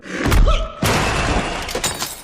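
Glass bottles smash as a man is hurled across a supply room, with a heavy thud and bright shattering crash followed by a second burst of breaking glass and scattering shards, loud and close.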